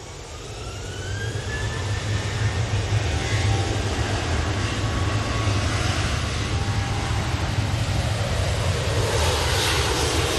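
A Loganair Embraer jet arriving from Inverness builds from quieter to a loud, sustained engine roar with a falling whine, holding steady and close throughout with no voices.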